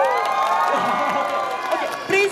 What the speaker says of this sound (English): So please clap and cheer and make some noise.